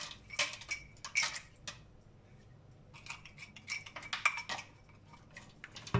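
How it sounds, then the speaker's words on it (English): A spoon stirs rice and vegetables in a metal cooking pot, with light clinking scrapes in short bursts and brief pauses between strokes, close and fairly quiet. "Baada ya hapo nitakoroga mchele wangu"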